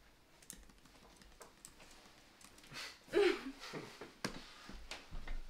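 Soft, irregular clacking of keys on a computer keyboard as someone types out their wedding vows, with scattered taps, short pauses and a brief louder shuffle partway through, heard close up in a quiet room with no talking.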